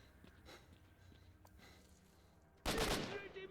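A loud burst of AK rifle fire in the game STALKER erupts abruptly near the end, after a quiet stretch of faint background sound.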